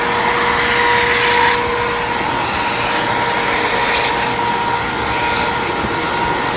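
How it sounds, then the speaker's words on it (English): A vacuum cleaner runs steadily and loudly in a workshop where metal parts for a homebuilt airplane turtle deck are being filed and drilled, a constant broadband roar with a faint tonal whine throughout. "Let's move our vacuum cleaner away."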